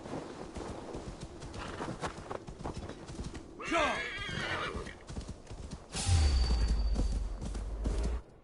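Horse in a Norway setting in Assassin's Creed Valhalla whinnies loudly in the middle, with hooves clip-clopping on and off throughout, a heavy low thud near the end, and faint talk in places.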